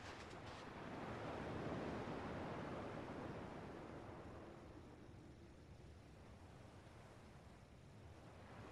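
Ocean waves from the video game Kingdom Hearts 2 wash in continuously, a soft, hissing surf that swells early and then eases into a quieter steady wash, with no voices.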